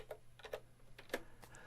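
Typing on a Dvorak-layout computer keyboard connected to a homemade 486 breadboard computer: several quiet, irregular key clicks in quick succession, close up with nothing else around.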